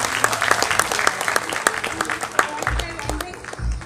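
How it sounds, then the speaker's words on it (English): Audience applause for a young female singer after her performance on a stage show, a steady wash of clapping with some voices and low thumps mixed in, fairly close. "A big round of applause for Arushi."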